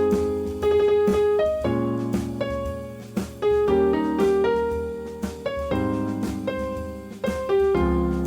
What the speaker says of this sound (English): So if you play the arpeggio of the triad, it will sound something like this.